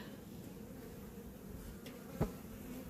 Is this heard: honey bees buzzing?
yes